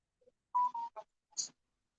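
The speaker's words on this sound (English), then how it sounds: "My phones are beeping. My tablet is beeping like crazy." Phone and tablet notifications beep in a quick, faint cluster of short electronic tones, a few blips close together against silence.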